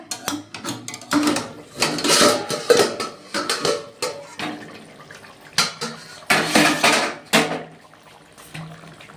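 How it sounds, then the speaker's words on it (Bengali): A lid lifted off a cooking pot of Bengali-style katla fish yoghurt curry, with a run of close metallic clanks and clatters in uneven bursts and brief pauses between. "ঢাকনাটা আমি তুলে দিচ্ছি বন্ধুরা"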